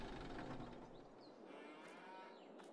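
Cattle moo in the farming video game Farming Simulator 22: one drawn-out moo at the start, then quieter farm ambience with faint mechanical clicks, no talking.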